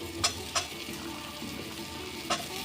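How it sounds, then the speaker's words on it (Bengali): Spices, including cumin powder, fry in tomato juice in a pan with a steady close sizzle. A few sharp scrapes of a stirring spoon cut through the sizzle. "এই টমেটোর রসেই মশলাটা একটু ভেজে নেব"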